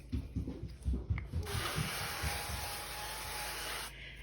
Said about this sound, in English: I'm just gonna spray them with this avocado oil.